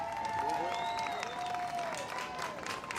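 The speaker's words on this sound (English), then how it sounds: "You can hear him cheering already as the kite comes down." A crowd at a sailing regatta cheers and applauds continuously, a broad wash of clapping with shouts, while a commentator talks over it.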